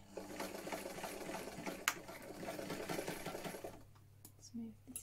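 A vintage sewing machine runs a back stitch in a rapid, steady mechanical chatter for most of the span, then stops near the end, leaving quieter room sound with a faint voice.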